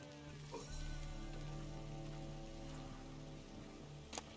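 Steady rain falls in The Witcher 3: Wild Hunt game world, a continuous hiss with a low hum beneath it and a brief sharp knock near the end, with no voices.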